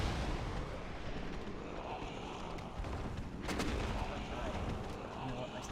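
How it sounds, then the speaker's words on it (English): Fireball spells cast in Dark Souls, a dense loud stretch of booming, crackling blasts with a sharp burst partway through, over a continuous roar and a voice talking. "I'm just gonna start hurling some fireballs in hopes this works"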